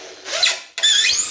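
A power drill with the thinnest bit drives screws into a diorama build, two short whirring bursts with rising pitch, separated by a brief stop, loud and close.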